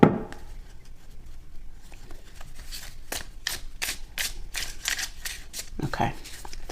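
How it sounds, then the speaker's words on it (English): Playing cards being shuffled several times, a series of crisp riffling bursts in quick succession, fairly close and moderately loud, with faint voice-like sounds at the start and end. "3 shuffles and a cut."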